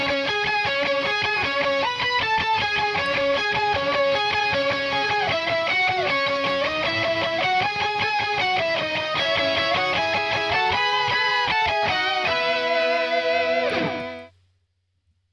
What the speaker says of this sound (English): I reamped them through my real JCM 800 with a tube screamer in front, and they sound like this with no EQ.